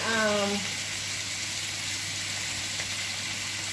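Vegetables sautéing in a pan for Jamaican escovitch fish give a steady, soft, hissing sizzle that continues throughout, with a brief voice at the very start.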